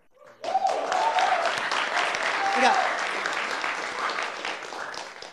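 An audience claps at a live talk show, dense applause rising quickly and holding steady with a few voices calling out over it, then easing slightly toward the end.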